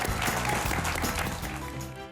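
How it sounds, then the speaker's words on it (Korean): Audience applause after a lecture in a televised talk program, steady dense clapping throughout with a low musical bed underneath. "큰 박수 부탁드립니다"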